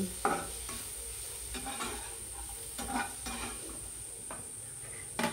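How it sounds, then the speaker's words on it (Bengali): Vegetables stir-frying in a wok with black pepper and salt, a soft continuous sizzle broken by repeated scraping and clattering stirs of a spatula against the pan, close and fairly quiet, with no talk. "এরকম 2 মিনিট ভেজে নিয়েই সবজিগুলোকে তুলে নিতে হবে।"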